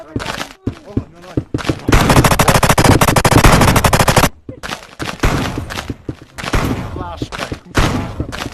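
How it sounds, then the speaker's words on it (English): Rapid automatic gunfire in the video game Monkey Mayhem, loud close bursts of machine-gun fire with one long sustained volley and shorter bursts separated by brief gaps, with voices talking in between. "Stop shooting."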